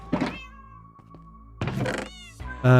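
A cat in the video game Minecraft gives two clear, close meows separated by a quiet pause that holds a soft thunk.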